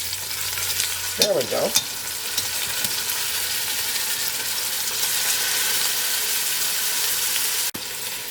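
Steak browns in a hot pan, giving a loud, steady sizzle and frying hiss that fills the whole stretch. A brief scrape sounds as the meat is moved, and a voice speaks briefly near the start.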